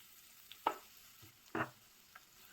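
Ginger and garlic hitting a pan give two short, soft bursts of sizzling and stirring against a quiet background.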